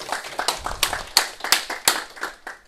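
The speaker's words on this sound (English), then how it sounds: "just applause for both of them" Scattered applause from a small group, a few seconds of uneven clapping that thins out toward the end.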